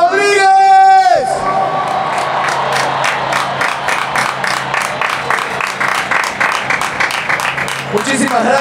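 Audience applause and cheering for footballer Alberto Rodríguez at a fan awards presentation, a dense crowd clapping loudly and steadily with whoops, following a short tonal sting at the start.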